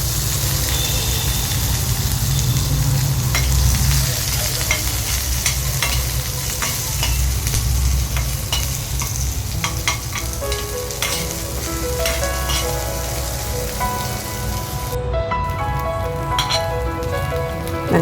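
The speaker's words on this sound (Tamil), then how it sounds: "நம்ம ஸ்லைஸாக கட் பண்ணி வச்சுருக்க பெரிய வெங்காயம், ஒரே ஒரு பச்சை மிளகாய், கொஞ்சம் கருவேப்பிலையை சேர்த்து நல்லா வதக்கி விட்டுக்கோங்க" Sliced large onion, one green chili and curry leaves sautéing in hot oil in a pan for a Nanjil-style cluster bean aviyal, giving a steady close sizzle and crackle with occasional stirring scrapes throughout, no voices.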